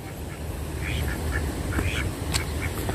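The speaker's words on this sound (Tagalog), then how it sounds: "Ano po, may mga pato rin dito." Ducks quack in short, scattered bursts over a steady low outdoor rumble in Aspire Park, Doha, Qatar, several calls at moderate distance.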